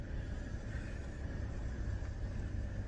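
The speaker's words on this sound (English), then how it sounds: "If you can hear traffic, it's because I get hot easily, even in the wintertime. And I have my back windows open." Low road traffic rumble drifts in through open rear car windows, a faint, steady distant drone of passing vehicles with nothing else over it.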